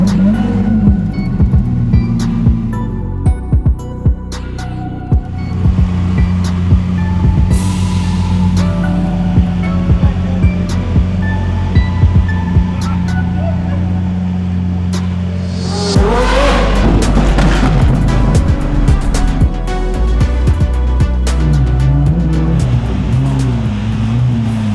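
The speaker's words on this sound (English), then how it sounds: "It has the RDV V3 exhaust system on there, so super loud, of course." A Lamborghini Aventador SVJ with a tuned RDV V3 exhaust idles and revs hard, a loud, deep engine burbling with sharp crackles and rising throttle blips, close by throughout.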